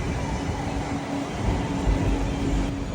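A train in Bangkok, similar to an LRT or MRT line, rumbles steadily with broad noise and a faint sustained tone, continuous and fairly loud throughout without any pause.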